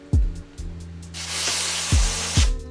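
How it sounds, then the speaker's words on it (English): Aerosol contact cleaner sprays in a steady close hiss for over a second across the gasket surfaces of a 1999 Kawasaki KX250 engine case, with sharp clunks of parts being handled before and during it. "Contact cleaner. Just want to clean off the gasket surfaces here."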